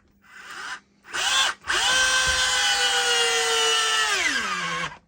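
An old battery-powered drill in drill mode, set to gear one, bores into a wooden workbench. The motor whines loud and close in two short bursts, then runs a sustained run of about three seconds before winding down.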